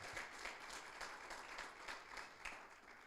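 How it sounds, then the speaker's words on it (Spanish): A church congregation applauds steadily through a Spanish-language service, a moderate, continuous clapping with no break. "Le damos un aplauso a Dios por eso"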